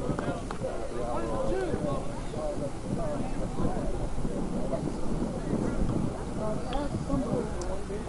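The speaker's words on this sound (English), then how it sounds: "with the wind blowing, it blows the camera a little bit" Wind buffets the camera microphone at an outdoor high school baseball game between Highland Park and Mundelein, a steady low rumble that stays throughout, with voices murmuring faintly underneath.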